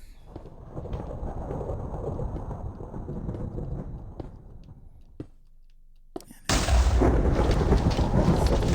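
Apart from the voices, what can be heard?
thunderstorm in the video game Minecraft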